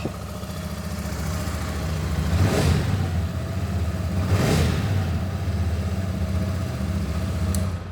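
A Royal Enfield Shotgun 650 motorcycle engine starts and idles steadily up close, with two brief rising swells where the throttle is blipped and a faint click near the end.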